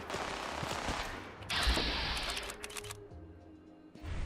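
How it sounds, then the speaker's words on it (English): Firefight gunfire in the Fallout video game, with fairly quiet, dense rattling bursts of automatic fire, moderately distant, pausing and resuming over several seconds. "It's a firefight."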